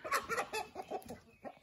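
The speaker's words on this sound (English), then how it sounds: "See, that other rooster's done turned mean too." A rooster clucks in a quick series of short, close, throaty calls, fairly loud with brief pauses between them.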